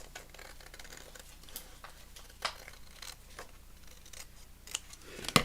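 Scissors snip through paper while cutting pieces for a handmade journal: a close, steady run of soft crisp cuts, ending in a few sharper, louder snips.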